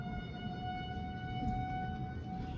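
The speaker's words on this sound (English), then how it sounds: "this is our normal test siren" A monthly test siren sounds at a distance, a steady sustained wail holding its pitch for the whole stretch over background noise.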